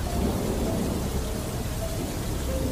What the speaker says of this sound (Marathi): पण थोडा पुढे जातो तोच अचानक जोराचा पाऊस सुरू झाला.